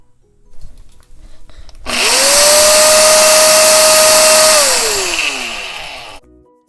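A mixer grinder spins up and grinds whole roasted spices in its jar, a loud steady motor whine holding for about three seconds before winding down, with no talk over it.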